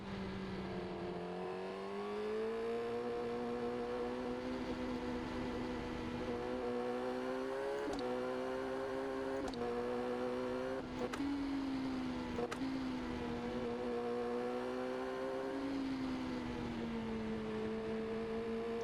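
A motorcycle engine hums steadily while riding along a road, its tone rising and falling gently with throttle and gear changes, a few brief clicks and knocks breaking in, with wind noise underneath.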